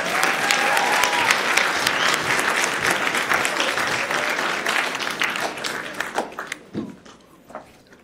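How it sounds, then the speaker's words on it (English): Audience applause at a Black History Month celebration, a dense burst of clapping from a crowd that holds strong for several seconds, then thins out into scattered claps and fades near the end. "Can you guys give them one more round of applause?"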